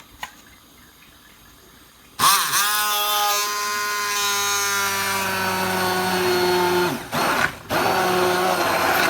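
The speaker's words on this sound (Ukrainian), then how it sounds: "беремо блендер, давай збиваємо блендером" A kitchen blender whips homemade yogurt into a cocktail. After a quiet start it switches on abruptly with a loud, high motor whine, runs for several seconds with a slight pitch drift, then briefly cuts out twice before resuming.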